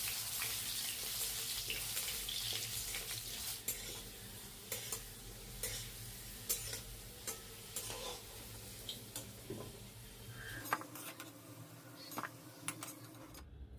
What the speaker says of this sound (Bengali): এবার চলো আলুগুলো আগে ভেজে তুলে নেওয়া যাক।